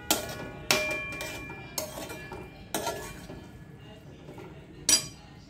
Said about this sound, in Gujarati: અને થોડું પ્રોપરલી એને મિક્સ કરશું